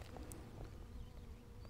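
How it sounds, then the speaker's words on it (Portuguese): Bees buzz around a farm apiary on a sunny 18-degree day, a faint, steady hum of many insects with a few individual bees droning past close to the microphone. "e o que vemos é já uma intensa atividade das abelhas."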